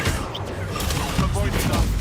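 Confringo fire-blast spell explosions during a Hogwarts Legacy duel, a dense rumbling barrage of booming bursts that fills the whole moment, with voices mixed in among the blasts.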